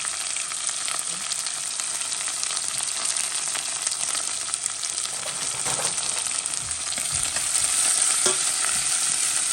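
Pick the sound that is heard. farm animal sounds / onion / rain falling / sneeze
onion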